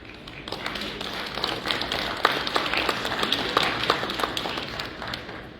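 Conference audience applauding after a speaker is invited to the stage: a steady wash of many hands clapping with scattered sharper claps, moderately loud and sustained throughout.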